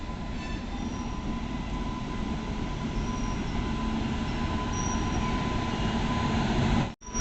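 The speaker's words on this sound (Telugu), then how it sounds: "ఇది గూడ్స్ ట్రైన్ ఎంటర్ అవుతుంది" A heavy goods train rumbles steadily along the rails entering Karimnagar station, a continuous loud rolling drone with faint metallic squeals, ending in a brief dropout.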